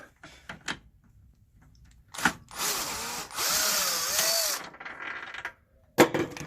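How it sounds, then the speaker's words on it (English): A power tool whirs and ratchets while removing subframe bolts on a BMW E90 328i with an N52 engine during an oil pan gasket job, one sustained run between sharp metallic clanks and short bursts. "Now let's remove the bolts."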